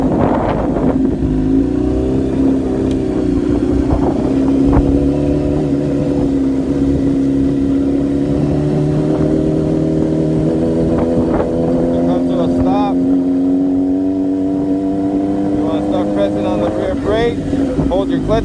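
A motorcycle engine on a ride as a beginner shifts up through gears, a steady droning hum that climbs gradually in pitch over the clip, with a person talking over it.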